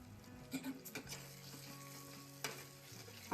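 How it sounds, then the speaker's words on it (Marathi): Onion-tomato masala sautéing in oil in a pan for a restaurant-style cauliflower curry, a steady low sizzle broken by several clinks and scrapes of a stirring spoon, close and moderately quiet. "छान 15 मिनिटं हा मसाला परतून घेऊया आपण"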